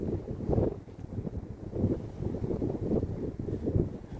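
Wind gusts across a frozen, snow-covered Britannia Beach beside the sea in the late-afternoon cold, buffeting the microphone with a steady low rumble that swells and eases throughout, with no voices.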